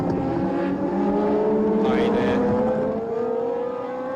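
A Tyrrell Formula One car at the Japanese Grand Prix at Fuji gives a sustained high engine whine that shifts steadily in pitch, with commentary talking over it throughout.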